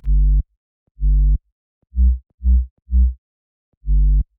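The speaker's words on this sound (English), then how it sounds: "we're gonna start with a sub-bass to lay down the rhythm and the bass notes of the chords" A deep synthesized sine sub-bass for future house plays a rhythmic pattern of six short, clean notes with a gap, alone and fairly loud.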